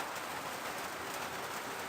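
Light drizzle falls through a misty night, a soft, steady hiss of fine rain pattering evenly and faintly with no other sounds over it.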